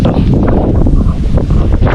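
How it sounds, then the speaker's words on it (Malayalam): Strong gusty wind across a paddy field ridge buffeting the microphone in a loud, continuous rumble with no voices. "നല്ല കാറ്റ് പിടിക്കുന്നു ഈ പാടവരമ്പിൽ"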